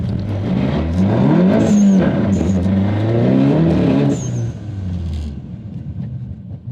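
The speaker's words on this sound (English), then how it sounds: "It's hard to launch this car with the traction intervention." A car with a newly installed stiffer Unitronic MQB dogbone engine mount launches hard under traction intervention, its engine note rising loud and close for about four seconds before dropping away.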